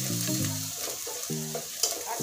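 Onion sizzles and fries in a pan with a paste of turmeric, chili and salt, a steady close crackle with stirring under faint tonal background sound.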